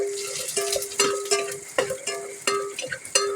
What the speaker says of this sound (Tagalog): Kalagpok ang ano, mantika.